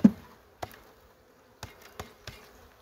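A faint, steady hum of honeybees at a Varroa-infested hive in the background, broken by a few sharp knocks and taps as bees are shaken off frames.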